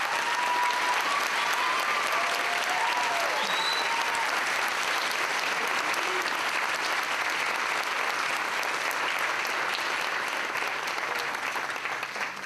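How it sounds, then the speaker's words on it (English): Audience at a youth recognition awards ceremony breaks into a long, full round of applause, many hands clapping densely and evenly at a steady level for the whole stretch. "So he deserves a round of applause."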